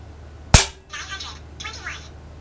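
A single sharp, loud crack from an Air Venturi Avenger .25 caliber air rifle fired close up, followed by a short ringing tail and brief mechanical clicking sounds.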